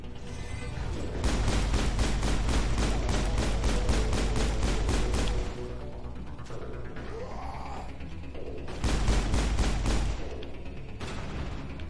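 Repeated gunfire from the video game Mass Effect, loud and dense bursts of rapid shots lasting several seconds, then a quieter stretch of game ambience before another heavy burst of shooting near the end.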